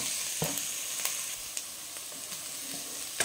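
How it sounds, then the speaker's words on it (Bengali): Chopped onion frying in oil for a prawn potato chop, a continuous soft sizzle with a few sharp spatula taps and stirs. "দেখুন পেঁয়াজটা ভাজা ভাজা হয়ে গেছে।"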